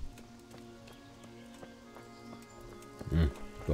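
Horse hooves clip-clop in the medieval role-playing game Kingdom Come: Deliverance, a faint, irregular patter of footfalls under quiet game ambience, ending in a louder burst of movement near the end.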